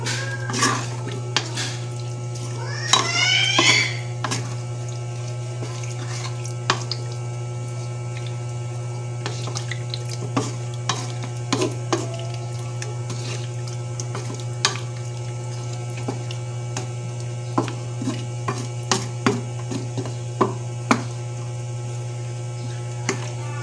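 Sweet and sour chicken adobo with pineapple, soy sauce and water being stirred in a pan, with repeated scraping and clinking of a utensil against the pan over a steady hum, no talking.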